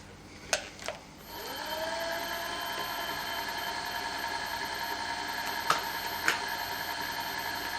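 A wood lathe turning a black wood vase at about 1000 RPM gives a steady, even motor whine that rises in pitch as it speeds up, with a few faint clicks and taps, close and moderately quiet, no talking.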